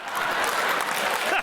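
A debate audience cheers and applauds loudly in a brief, steady burst of clapping and voices that cuts off abruptly at the end.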